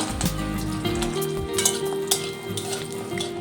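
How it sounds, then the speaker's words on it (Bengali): Bori, small sun-dried lentil dumplings, frying in hot oil in a heated kadai, giving a steady close sizzle with occasional clinks and stirring scrapes against the pan. "তেলটা গরম হয়ে গেছে, প্রথমে বড়িটা ভেজে নেব।"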